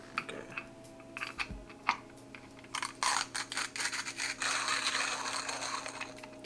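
A 1Zpresso JX hand grinder crushes coffee beans from a house blend, giving quiet, irregular scraping and crunching bursts that become denser and more continuous toward the end. No talking.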